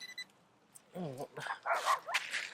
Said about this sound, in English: Dogs barking on the beach.